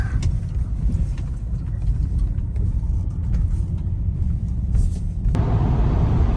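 A Tesla Model Y cruises on Autopilot on a highway at about 75 mph, a steady low road rumble and tire hum filling the cabin, continuous and fairly loud with no talk.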